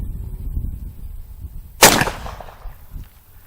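A Midland Arms .410 shotgun loaded with number 8 shot fires once outdoors, a single sharp loud blast that rings briefly and fades into quiet background rumble.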